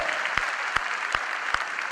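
Dense applause from an audience at a Modicare business gathering, with a few sharp, louder claps popping out at a steady rhythm over the continuous wash of clapping.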